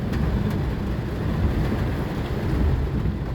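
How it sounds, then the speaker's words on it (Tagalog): Heavy rain pours down on a road with traffic, a steady dense wash of noise with a low rumble beneath it, loud and unbroken. "Napakalakas po ng ulan."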